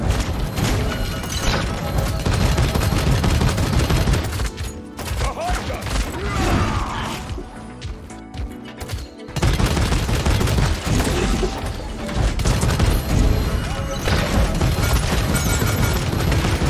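Sustained bursts of video game gunfire crackle and boom almost without pause, with crashes mixed in, dropping away briefly before the shooting resumes loud and dense; a voice speaks faintly beneath.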